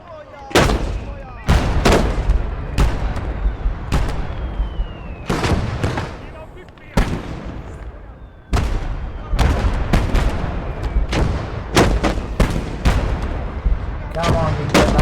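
Tank battle in the video game Blood Red Snow: loud, sharp cannon and gun blasts crack one after another at an irregular rhythm across the whole stretch, with short gaps and a rumbling background between shots.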